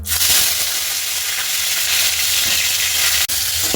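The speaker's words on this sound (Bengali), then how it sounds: "এরপর আমি দেব ফুলকপিগুলো।" Cauliflower pieces frying in hot oil while khichuri is being made, a loud, steady close sizzle and hiss with one brief dip near the end.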